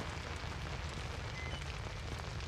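Steady rain falls in darkness within the horror video game Outlast, a dense continuous patter with no pauses or voices, filling the whole stretch at an even, moderate level.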